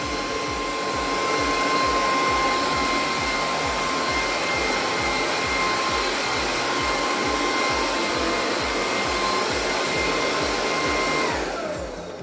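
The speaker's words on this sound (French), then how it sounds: "c'est un aspirateur que je trouve bruyant" A Bissell Icon 21V cordless stick vacuum cleaner runs steadily with a high whine and airy rush, then winds down as it is switched off at the end.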